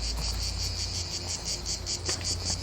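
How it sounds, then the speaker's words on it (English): Cicadas drone loudly and continuously through the night, a dense pulsing buzz that fills the whole scene without a break. "They're cicadas."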